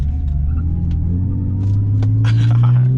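A car with a welded differential takes a sharp turn, its tires giving short chirps over a loud, steady engine rumble that swells toward the end.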